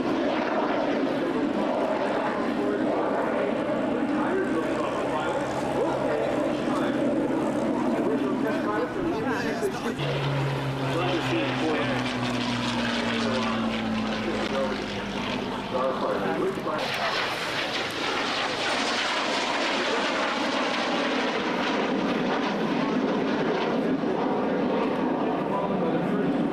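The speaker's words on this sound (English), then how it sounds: "Fighters built by the Hawker Corporation" A Hawker fighter aircraft at a beach air show, its engine drone and roar running throughout with a shifting pass midway, heard under continuous loudspeaker commentary.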